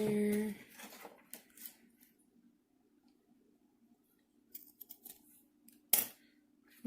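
Scissors snip cotton crochet yarn up close, giving a few faint, scattered clicks and rustles with a low steady hum behind them. A short voice is heard at the start.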